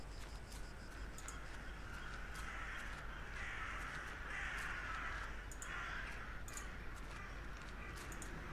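Crows cawing in the video game The Last Door, several harsh caws repeating over a quiet ambient background, faint and without speech.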